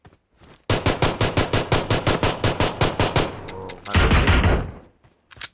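Automatic gunfire in PUBG Mobile: a loud, close, rapid burst of about a dozen evenly spaced shots, a short lull with a few scattered shots, then a heavier blast-like volley that fades away.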